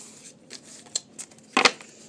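Tarot cards are shuffled in soft, quick riffling flicks, faint and close, ending in a louder burst of cards snapping together.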